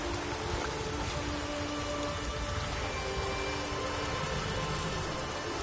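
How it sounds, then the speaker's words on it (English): Steady rain falls in the game The Witcher 3, a dense, even hiss of drops on surfaces continuing throughout without pause, with faint tonal hints of ambient music beneath. "Maybe we needed a spot of rain."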